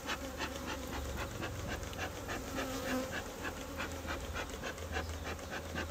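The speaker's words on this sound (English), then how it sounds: "These bees are a little feisty right now" A colony of honey bees buzzes loudly and steadily throughout an open-hive inspection in February, with a dense, continuous drone close by and individual bees flitting past; no one speaks.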